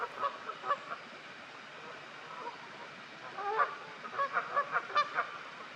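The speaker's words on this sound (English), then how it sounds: "Canada geese, honking away like there was no tomorrow" Distant Canada geese honk in scattered bursts by a loch side, a few early calls then a busier cluster of repeated honks toward the end, over a steady outdoor hiss.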